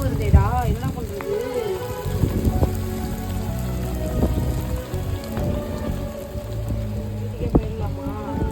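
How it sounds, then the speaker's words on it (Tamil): Steady rain pattering on a surface, with voices speaking over it and some rustling nearby. "மழை வருதேடா, என்ன பண்றது?"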